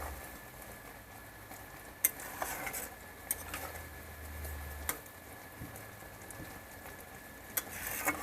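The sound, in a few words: stirring raw mango pickle in sugar syrup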